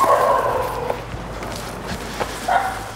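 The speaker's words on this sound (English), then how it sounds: "There's a dog inside, right?" A dog inside an abandoned movie set gives a couple of short barks and yips, heard from a moderate distance within a quiet, echoing space.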